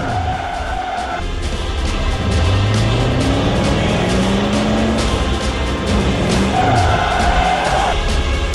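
A car drives steadily through a city in the zombie video game Road of the Dead 2, with a loud continuous engine drone and shifting pitch as it accelerates, plus faint tonal game sounds at the start and end.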